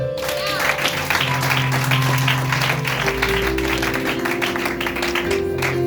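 A church congregation at a seminary service applauds and acclaims, with continuous loud clapping mixed with raised voices and shouts, close and sustained throughout.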